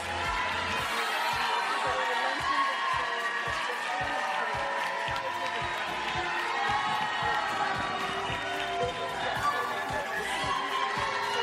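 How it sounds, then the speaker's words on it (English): A large pageant crowd at a Miss Teen USA preliminary show claps and cheers continuously, a broad wash of applause with shouts and chatter, fairly distant and steady throughout. "Yes, don't be shy with that applause."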